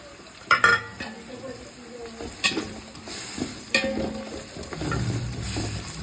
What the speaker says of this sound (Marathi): त्याला चांगलं आपण परतून घेऊ